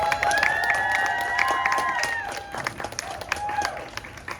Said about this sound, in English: Please give a big round of applause for Brother McDaniel Blewett, Demetrius McDowell,